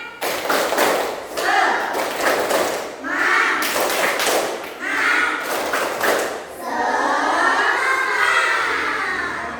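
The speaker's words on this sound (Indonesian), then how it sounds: "Oke, coba tepuk semangat." A primary school class performs the 'tepuk semangat' rhythmic clapping routine, bursts of patterned claps and thumps alternating with children chanting together, loud and close in a classroom.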